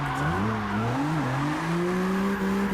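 Car tyres squealing through a handbrake drift in CarX Drift Racing Online, a loud sustained screech with a wavering pitch over a steady engine drone, running unbroken for nearly three seconds.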